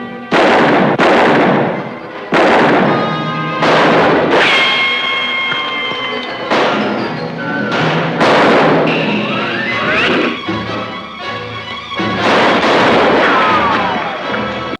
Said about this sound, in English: and suddenly it's a gunfight.